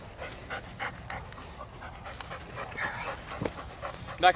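A dog pants rapidly and steadily at close range during bite training, quick rhythmic breaths with small whimpers and faint voices in the background.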